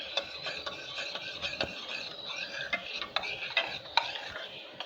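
A spoon stirs custard powder into milk in a cup, clinking and scraping in a quick, regular rhythm of small taps, close and fairly quiet with no talking.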